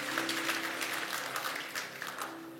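A church congregation applauds, a soft continuous wash of many hands clapping at moderate distance, with a low hum beneath and no speech.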